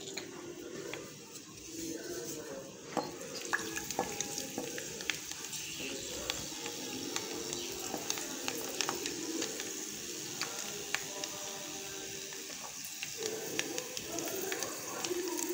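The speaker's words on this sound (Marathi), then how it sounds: "जे लसण वाटून घेतलं होतं ना आपण ते लसण टाकून घेऊ" Crushed garlic frying in hot oil for a quick raw-mango pickle, a steady close sizzle with scattered crackles and pops running throughout, with no talk over it.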